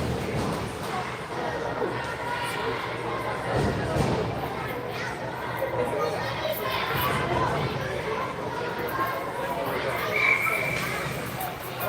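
Young girls' hockey team starting a cheer from the stands of an ice arena during a 12U game, a broad crowd murmur with children's shouting and chatter rising and falling, under a commentator's voice.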